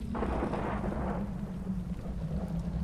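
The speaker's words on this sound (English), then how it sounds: "It's raining cats and dogs." Rain and rolling thunder in the video game Secret Files: Tunguska, a steady wash of rainfall under a low rumble that swells in the first second and lingers alone.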